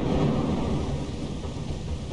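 Thunder rolling during a storm in the video game Lethal Company, a loud, deep, continuous rumble with a hiss of rain over it, with no voices.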